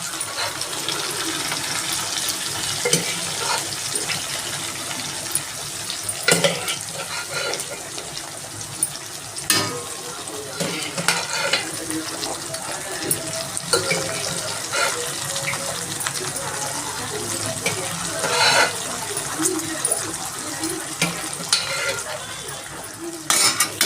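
Boiled mutton tossed and stirred in a pan, with wet sloshing, scraping and clinks of a spoon against metal over a low sizzle, close and uneven, repeating throughout with no clear talking.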